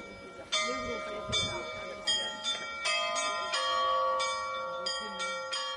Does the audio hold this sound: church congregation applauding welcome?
no